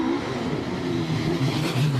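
A championship-winning hillclimb race car, an older machine of around 500 horsepower, accelerates hard at Prescott with a steady, loud engine roar that holds for about two seconds.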